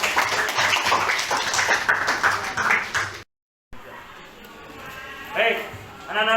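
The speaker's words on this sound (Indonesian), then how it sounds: "Oke, tepuk tangan." A classroom of students claps their hands together, a loud, dense patter lasting about three seconds. A short silence follows, then a teacher starts talking.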